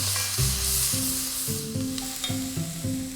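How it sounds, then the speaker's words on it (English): Sliced onions and garlic sizzle steadily in a hot pan while being stirred, the hiss sitting beneath louder music with sustained notes throughout. "Now add 2 large sliced onions and 2 cloves of garlic. Give that a good stir round."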